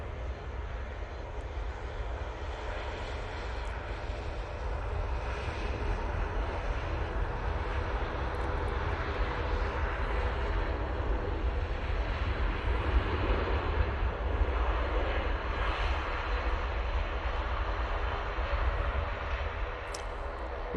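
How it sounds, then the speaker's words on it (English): Etihad Boeing 777 engines spooling up at Manchester Airport, a steady broad roar that holds at an even level from start to finish, heard from a distance across the airfield with no voices. "I can hear a 777 starting up, and I think it is the Etihad."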